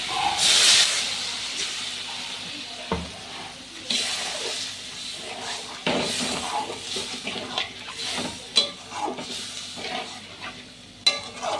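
Water poured into a hot pan for a Bengali katla fish kalia bursts into loud hissing steam and sizzle, easing into a steady bubbling fry broken by scrapes and knocks of a stirring utensil.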